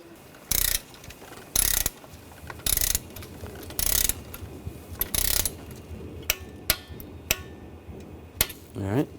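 Ratchet clicking in short bursts while starter bolts are torqued on a 2004-2012 Chevrolet Colorado 3.7L, about six loud, sharp broadband bursts spaced roughly a second apart, followed by a few isolated clicks and a brief voice at the end.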